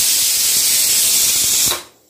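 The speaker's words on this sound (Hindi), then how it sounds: "मेरा कुकर सीटी दे दिया है।" A pressure cooker cooking lentils lets out a loud, steady steam whistle that goes on for a long stretch, then cuts off sharply into quiet.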